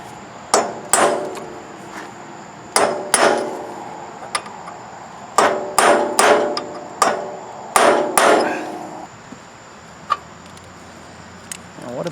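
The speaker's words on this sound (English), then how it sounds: "I'm literally going to bang on these with a punch and a hammer." A hammer strikes a punch against seized exhaust bolts on a Wheel Horse 520-H garden tractor, sharp metallic clanks landing in quick bursts of two or three, with short pauses between groups and a final few lighter taps.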